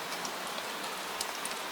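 Gentle steady rain falls across an old town square at night, an even broadband hiss with occasional brighter drop ticks, soft and continuous with no voices.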